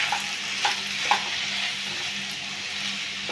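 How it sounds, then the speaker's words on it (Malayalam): Potato masala fry with curry leaves is stirred in a hot pan, a close, steady hiss of frying with a few sharp spatula scrapes at the start. "ഇനി ഇതെല്ലാം കൂടെ നന്നായിട്ടൊന്ന് ഇളക്കി കൊടുക്കാം"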